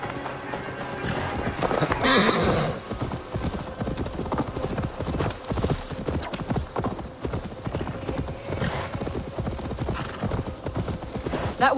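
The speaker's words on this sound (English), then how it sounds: "Now to deliver Magni his horse." Galloping horse hooves clatter in a fast, steady clip-clop in Assassin's Creed Valhalla, joined by a whinny, loud and close over game background sound, with occasional voices.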